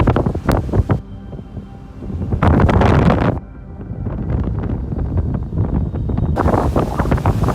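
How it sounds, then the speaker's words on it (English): Storm Ashley drives heavy waves against the Dublin shore in high wind: loud, continuous wind buffeting and surging surf, with several sharper crashing bursts rising and falling through the roar. "The sea in Dublin roars violently during Storm Ashley. Waves crash relentlessly against the shore"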